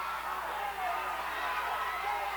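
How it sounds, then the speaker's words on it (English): A large crowd at an amateur boxing match roars into a steady, sustained cheer, dense and fairly loud, with a commentator's voice running over it. "Now the crowd comes alive."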